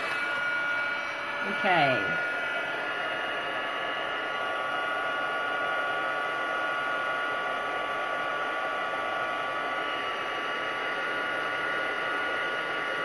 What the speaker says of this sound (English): so I'm going to bring in my heat gun